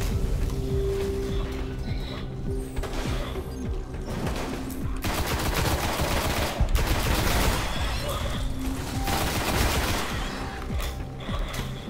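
Gunfire in the video game Destiny on PS4 rattles on without pause: overlapping volleys and rapid automatic shots mixed with mechanical clatter, fairly loud and dense for the whole stretch, with no clear talking.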